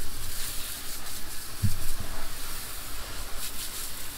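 Water sprayed over car wheels to rinse off P&S Brake Buster wheel and tire cleaner, a steady broad hiss running continuously at close range with no talking.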